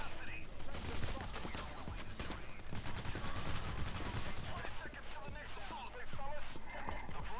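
Rapid gunfire bursts from a Payday The Heist robbery shootout crackle continuously through a dense, busy game mix, with voices talking over the shooting throughout.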